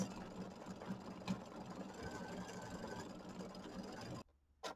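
Embroidery machine stitching white thread detail fills: a fast, steady mechanical whirring with a rapid needle rhythm, close and fairly quiet, stopping near the end.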